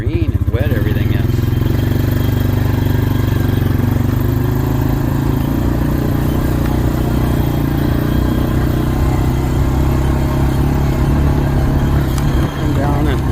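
A vehicle drives over the Cascades, its engine and road noise forming a steady, loud interior drone that holds constant throughout with only slight dips.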